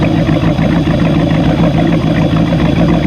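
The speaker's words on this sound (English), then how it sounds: "let the engine get some heat" A fishing boat's engine idles steadily to warm up on Canyon Lake, a continuous low rumbling drone close by with no talk over it.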